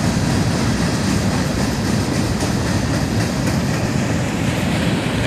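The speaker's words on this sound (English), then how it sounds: "here comes a freshly painted GATX boxcar" A freight train that includes a freshly painted GATX boxcar passes nearby, producing a loud, unbroken roar of rolling wheels and rattling cars with faint rhythmic clicks over the rails.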